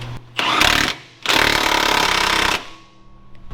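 A Milwaukee battery-powered tool drives a nylon lock nut on a big truck's leaf spring and shackle job, firing two loud rattling bursts, a short one and then a longer one, before the motor stops, with no talking.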